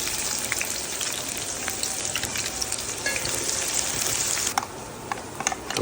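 Onion hits fresh hot oil in a pan just used for frying fish, a loud, close, continuous sizzle with bursts of crackling and spatter, steady throughout with no voices.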